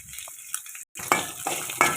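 Dried red chillies frying in a pan, a close, steady sizzle broken by a few stirring scrapes and short bursts of crackle, with a brief sharp gap partway through.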